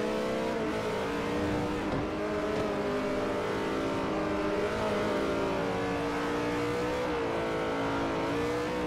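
Racing cars, including a Ferrari, roar together in the Forza Motorsport 4 video game, with engines droning and shifting pitch continuously as they accelerate, loud and close, with no speech.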